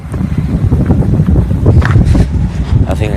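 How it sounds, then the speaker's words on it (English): Strong wind buffeting a microphone outdoors, loud continuous rumbling gusts and thumps filling the whole stretch. "So windy here."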